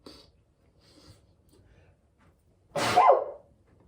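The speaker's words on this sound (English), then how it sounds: "I feel like I'm gonna sneeze" A single sharp human sneeze bursts out near the end, preceded by faint breathing and small rustles in an otherwise quiet setting.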